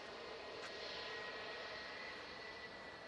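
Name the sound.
Boeing 777 jet engines firing up at airport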